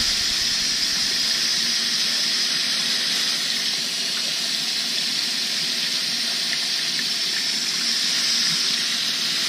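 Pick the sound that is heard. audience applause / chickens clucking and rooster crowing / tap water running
tap water running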